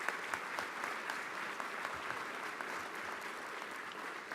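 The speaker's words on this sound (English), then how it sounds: "we want to give you our own special round of applause" Applause from an audience at a United States Senate gathering welcoming a former Polish president, steady and moderately distant clapping that holds throughout with no voices over it.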